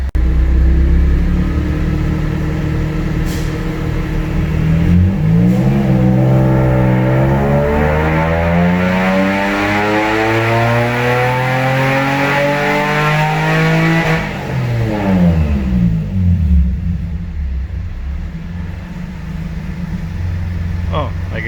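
A 2003 Nissan 350Z revving through a pull on a dyno during tuning, a loud engine sweeping upward in pitch for several seconds, then falling away to a lower rumble, with voices heard over it.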